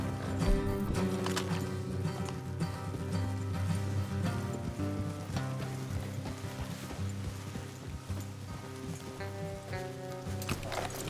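Steady clip-clop of horse hooves in the video game Red Dead Redemption 2 over a busy background of music and ambience, with an occasional snort, no talking.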